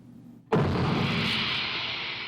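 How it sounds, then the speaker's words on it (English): A single sudden, heavy boom like a cannon shot erupts after a brief quiet moment, then rolls on as a sustained loud rumble. "Let's see if I can find that cannon sound real quick"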